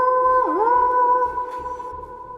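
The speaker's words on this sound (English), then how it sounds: "What does the Amazoness Call sound like?" The Amazoness Call card effect in Yu-Gi-Oh Master Duel: a sustained electronic tone with a quick downward bend and rebound, layered over a low pulsing rhythm, fading slightly toward the end.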